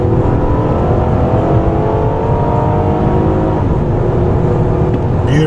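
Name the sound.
Acura RLX engine revving at high RPM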